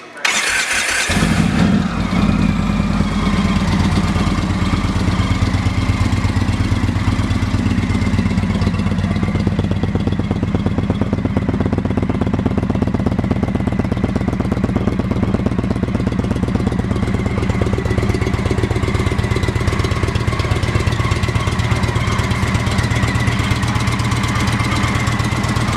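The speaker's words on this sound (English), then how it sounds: "Previous owner also installed a CFR exhaust, which sounds great." A 2015 Indian Chief Vintage motorcycle with a CFR aftermarket exhaust and under 10,000 miles fires up and settles into a deep, steady, loping idle, loud and close, with no talk over it.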